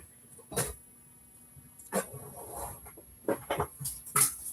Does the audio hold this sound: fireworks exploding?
no